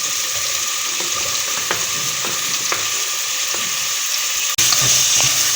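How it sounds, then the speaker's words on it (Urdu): Carrots and potatoes fry in a pan for a macaroni dish, giving a steady loud sizzle with occasional stirring scrapes and a sudden jump in intensity near the end. "تھوڑی سی دیر ہم لوگ اس کو بھونیں گے، پھر اس کے بعد ہم لوگ اس میں گاجر اور آلو ڈالیں گے"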